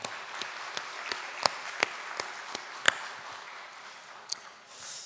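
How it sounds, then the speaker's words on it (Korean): Warm applause from a Korean church congregation at Jeongneung Church: a soft, continuous patter of many hands with a few sharper claps standing out close by, fading slightly toward the end. "서로에게 고마운 마음으로 한번 따뜻한 박수를 보내면 좋겠습니다"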